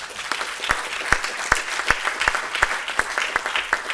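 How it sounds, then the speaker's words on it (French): An audience applauds at a political party's federal council speech: dense clapping with a regular, rhythmic beat of sharper claps running through it, steady and fairly close, with no talking. "Oui, il faut les applaudir."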